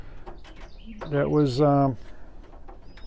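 Racing pigeons coo once in their loft, a clear rolling call of about a second standing out midway, with a person talking softly before and after it.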